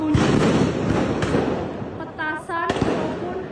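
Firecrackers go off outdoors in Indonesia as a run of loud, sharp bangs and pops over continuous crowd noise. A few tonal whistles or horn-like sounds cut in near the end.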